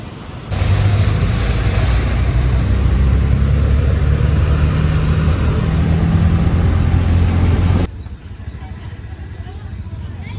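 Jammed road traffic on a market street, heard as a steady low engine drone and rumble that holds for several seconds, then cuts off abruptly, leaving quieter background noise.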